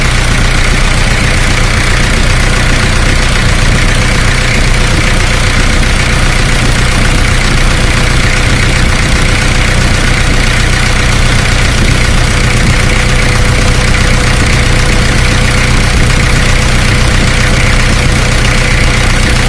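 A car engine idles steadily during a charging system check, a loud, unbroken mechanical drone with constant hum and vibration, recorded very close with no talking.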